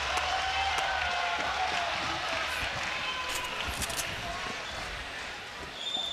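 A crowd at a Fortnite tournament cheers and claps in a sustained, noisy roar with scattered claps, heard beneath fast commentary talk.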